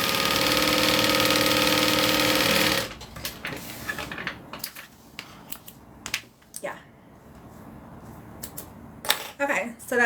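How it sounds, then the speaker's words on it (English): Sewing machine stitching fabric pieces together for a crossbody bag, a steady close whirring motor run for a few seconds, then stops, followed by handling clicks and rustles. "so now we're going to sew them together"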